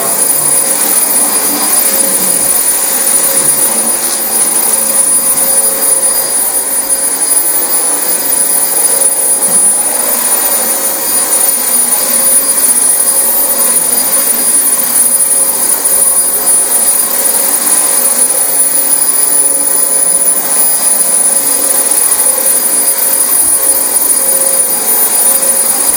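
A loud, steady vacuum cleaner drone runs without pause, a constant whirring roar with a high whine on top and no voices.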